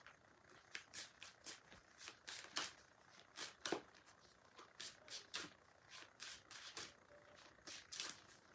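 A deck of playing cards being shuffled over and over, a steady run of crisp riffling bursts at close range with short pauses between them and no talking.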